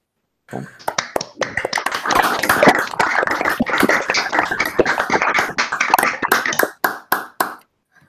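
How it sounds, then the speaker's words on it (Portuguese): Online audience applauding a speaker at the end of a physics lecture on analogue gravity models: many separate claps and taps from unmuted microphones, irregular and dense, sustained for several seconds before tapering off, with no talking. "a gente de novo abra os microfones para aplaudir o Maurício por esse excelente trabalho e contribuição ao GraphBR"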